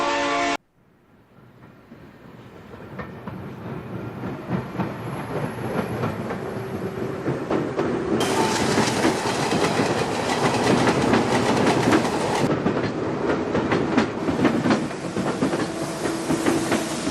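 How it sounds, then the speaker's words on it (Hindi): A passenger train pulls out of Anand Vihar railway station during lockdown, with brake hiss, then steady rolling rumble and clickety-clack of the wagons building up nearby, continuous and loud for the whole stretch without talk. "फाइनली ट्रेन चल गई।"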